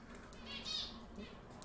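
Çiko, a three-month-old pet bird, chirps and chatters in a soft string of faint high calls, with a brief brighter warble in the middle, heard close in a quiet room.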